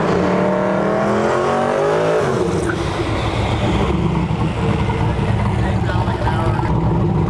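A Camaro race car at a drag racing event brakes early after its run, a loud continuous engine roar with dropping pitch, mixed with crowd and track noise while people talk nearby.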